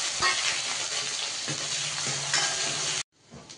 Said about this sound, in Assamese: মই সেই একেখিনি তেলতে এতিয়া পিঁয়াজখন মাৰি দিছোঁ